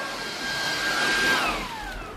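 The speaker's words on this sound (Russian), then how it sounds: "затестили мы пылесос" A household vacuum cleaner runs, a steady loud whirring roar with a high whine that sweeps slightly in pitch, heard alone without talk.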